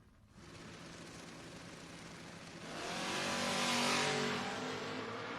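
Drag racing door cars, including a Monza, launch side by side with a sustained engine roar that swells louder and brighter about halfway through before easing slightly; no voices.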